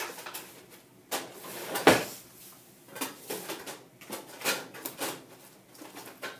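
Items rattle and clunk inside a metal IKEA Helmer drawer cabinet as it is rummaged through, with irregular close knocks and one sharp bang among softer shuffling sounds.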